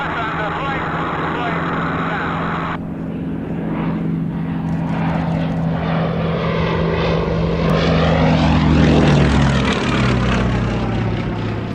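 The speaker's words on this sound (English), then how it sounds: "I'm sure you're enjoying the sound of these Lysanders" Westland Lysander propeller aircraft passing, a loud droning radial engine hum with a rising and falling pitch as they fly over, under someone talking throughout.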